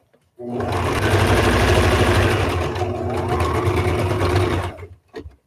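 A sewing machine runs at steady speed stitching a tie-back fabric face mask, a close rapid mechanical whir and clatter that starts abruptly, holds for about four seconds, then stops with a couple of small clicks.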